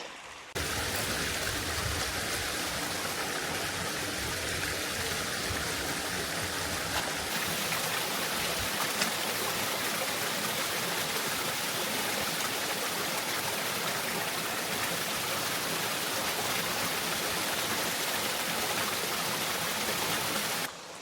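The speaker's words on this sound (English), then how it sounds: "the waterfall is just tiny and over there" A waterfall seen far off from below a high cliff roars as a steady, broadband rush of falling water, constant and unbroken throughout with no voices.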